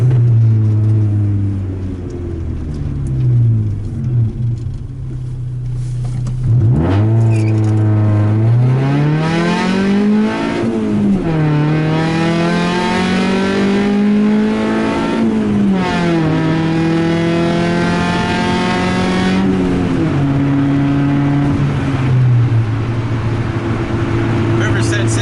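A Honda Civic accelerates hard from a standstill, its engine climbing through the revs with gear changes, loud and close from inside the cabin, while a voice talks over it.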